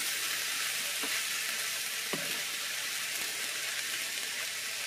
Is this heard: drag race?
no